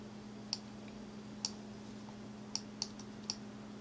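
Computer mouse clicks while working in QGIS, five or so sharp separate clicks, one a quick double click, over a quiet steady electrical hum.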